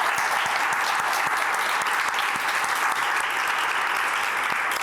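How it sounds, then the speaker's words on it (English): Steady applause from a seated audience at an innovation showcase, thanking a panel; dense continuous clapping at even loudness throughout, with no voices over it. "if we could give a quick round of applause for our panel"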